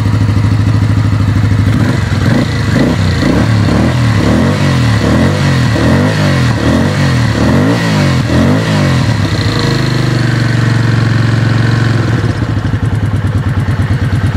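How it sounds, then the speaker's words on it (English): A Kawasaki VN750 V-twin motorcycle engine runs loud and close throughout, with a steady rhythmic idle pulse that briefly rises and falls in the middle before settling back to an even, continuous idle. "That's what she sounds like at idle, nice and quiet when you're just sitting at traffic light."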